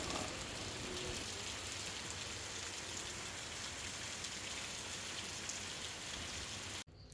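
Steady rain falls in Mangalore with a dense, even hiss of drops on surfaces that continues unbroken for the whole clip and cuts off abruptly at the end, with no talk.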